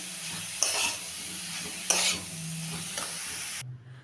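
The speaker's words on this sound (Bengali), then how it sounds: "এবার আমি সমস্ত উপকরণ ভালো করে মিশিয়ে একটু ভেজে নেব।" Vegetables tossed with turmeric, coriander and chilli powder fry in a pan, a steady close sizzle broken by a few sharp spatula scrapes before cutting off abruptly.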